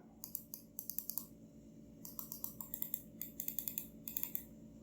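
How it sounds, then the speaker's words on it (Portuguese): Buttons on an Anker ergonomic mouse click in quick clusters of sharp, light taps, several rapid runs separated by short pauses, close up over a faint steady hum. "O clique dos botões, pra mim, é ok, nada de incomum, não precisa fazer tanta força assim pra clicar."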